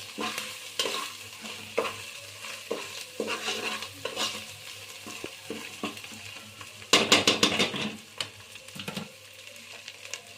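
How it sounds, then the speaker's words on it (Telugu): Coriander powder frying in oil in a pot for country chicken pulao sizzles under repeated scraping stirs, with a louder rattling flurry of stirring near the end. "ఇందులో ధనియాల పౌడర్ వేయాలి వేసి కాస్త ఆయిల్లో ఫ్రై అయ్యాక"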